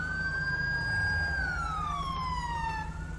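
Police siren in the video game GTA 5 wails continuously and loudly, one long sweeping tone gliding slowly downward over a steady engine hum.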